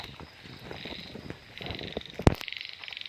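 Frogs croak steadily in a flooded field during rain, a dense, fairly loud chorus of repeated pulsing calls, with one sharp loud crack partway through and no speech.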